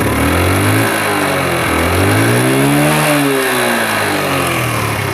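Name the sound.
Japanese Super Cub 50cc motorcycle engine idling and revving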